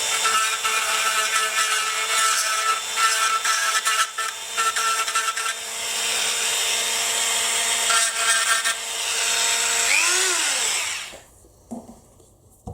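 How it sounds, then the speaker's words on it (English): A Dremel with a handheld extension grinds plastic tabs off inside a 1/18 scale model car body, a loud continuous high-pitched whine that dips and recovers, briefly bends in pitch near the end, then cuts off. "get to all these little tabs inside the body and just grind them off."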